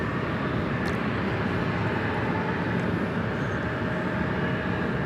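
A jet aircraft roars steadily at Washington Reagan National Airport, a loud broadband rumble holding constant throughout with no speech.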